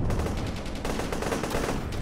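Gunfire in the video game Honor & Duty: D-Day crackles in a rapid, loud burst of repeated shots, close and continuous for a couple of seconds.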